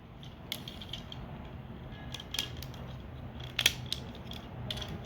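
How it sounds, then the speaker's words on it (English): Plastic pieces of a Transformers Titan Returns toy, Chromedome and Stylor, snap and clamp together, giving a few small, faint clicks over a quiet background with no talking. "these two plastic smoke pieces right here, smoky pieces, they're going to clamp together. So you just plug these things together."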